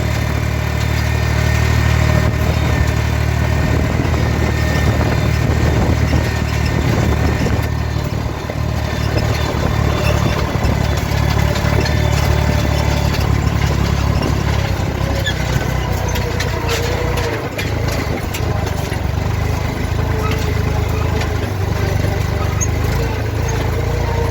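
A tractor with 100 kg front weights and a cultivator runs in a field, a loud, close, steady engine drone that keeps an even rumble throughout with no talking.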